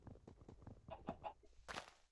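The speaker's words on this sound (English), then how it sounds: "I hear a chicken." Chicken clucking in the Minecraft video game: a string of short, quick clucks in an uneven rhythm, fairly close and clear, with no talk over it.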